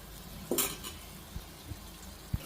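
Tamarind and ridge gourd pieces are stirred in a cooking pot, giving a few soft scrapes and light metallic clinks of a spoon against the pot over a faint sizzle, with no talking.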